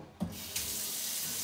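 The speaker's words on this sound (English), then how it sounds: "I gotta wash my hands" A kitchen tap opens with a soft clunk and runs in a steady, moderate hiss as hands are washed, with no voices over it.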